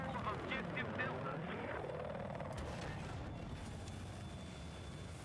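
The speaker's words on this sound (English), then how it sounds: "There's a jet flying above us." Roaring aircraft engine sweeping overhead in the Battlefield video game, a loud broad rumble that rises and falls in pitch as it passes, mixed with battle noise and fading into a steady drone.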